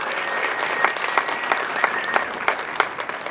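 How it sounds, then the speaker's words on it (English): Theater audience at the Historic Admiral Theater applauds in a steady, dense wash of clapping, with a few sharper individual claps standing out near the front. "Give them an applause that they can hear all the way up there."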